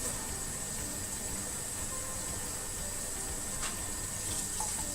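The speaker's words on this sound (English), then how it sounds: "Now I'm rinsing this off, right?" Pork chops are rinsed under a running kitchen tap, giving a steady, close hiss of flowing water with a few brief splashes and no talking.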